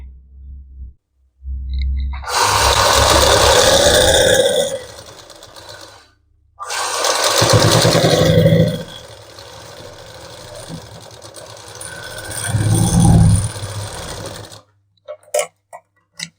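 A sewing machine stitches the waist of a pair of formal pants, two loud sustained runs of rapid mechanical chatter split by a short pause, then quieter handling and a brief final burst.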